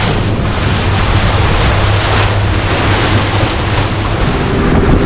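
Ocean waves wash and roll loudly around a sailboat under way in the Gulf of Mexico, with steady wind buffeting the microphone throughout.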